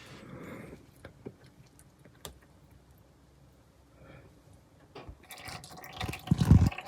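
Differential fluid drips from the fill hole of a Honda CR-V during a fluid change, heard as scattered sharp drips and small splashes close by, building into a louder, wetter stream of trickling near the end.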